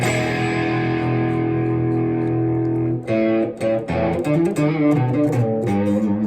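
A distorted electric guitar with its tone knob rolled back sustains a dark, muffled chord, then strums and picks several more chords with a dull, bass-heavy tone, the high end largely gone.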